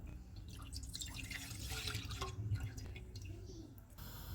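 Milk poured into a pan for custard gives a continuous, close, wet splashing and trickling pour for a few seconds, with no talking.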